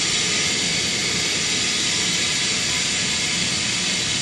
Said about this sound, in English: You get the compressor in the back. We got a scroll compressor.